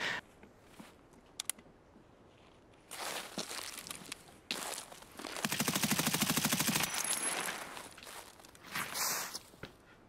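Gunfire in the Escape From Tarkov shooter game: a few sharp single shots, then a sustained rapid automatic burst lasting a couple of seconds, followed by scattered further shots and faint footsteps.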